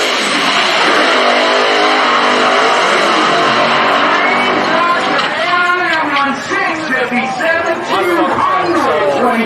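Pro Mod drag race cars during NHRA qualifying, a loud roaring engine blast that fades into sweeping pitch changes as a car runs down the strip, with crowd chatter and voices mixed in.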